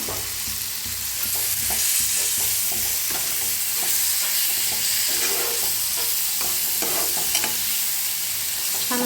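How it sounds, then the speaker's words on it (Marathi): Finely chopped onion and tomato sauté in a pan for a stuffed brinjal bharit, with steady sizzling and repeated spatula stirs scraping and tapping throughout, no talk. "कांदा तंबाटू आपण बारीक करून घेतलं होत्या त्याला ते छान असं भाजून घेऊया"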